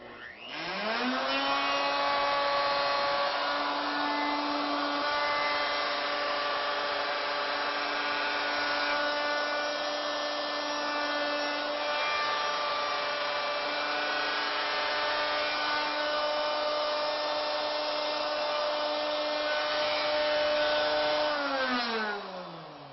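Plunge router relieving the end of a wooden tenon, a steady high-pitched motor whine that spins up at the start, holds constant for about twenty seconds as it cuts, and winds down at the end.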